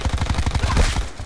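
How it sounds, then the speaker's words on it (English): Rapid video game gunfire, identified as shotgun shots, a quick rhythmic burst of about a dozen punchy reports in close succession, loud and close, trailing off at the end. "Shotgun."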